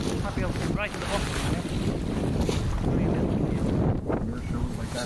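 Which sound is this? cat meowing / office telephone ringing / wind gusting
wind gusting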